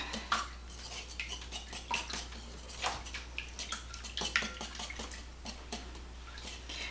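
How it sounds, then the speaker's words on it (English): A spoon stirs sausage breakfast casserole ingredients with mayonnaise and mustard in a bowl, giving a string of close, irregular clinks and scrapes of utensil against dish, with no talking. "I'm going to stir all this up."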